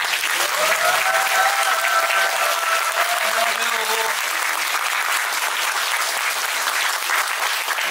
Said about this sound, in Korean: 한 분 한 분 소개해드릴 때마다 큰 박수로 환영해 주십시오.